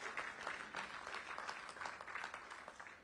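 Applause from a crowd welcoming C.R. Patil at a political gathering in Jaipur, a steady spread of many hands clapping at a distance for about three seconds, fairly faint and without voices over it.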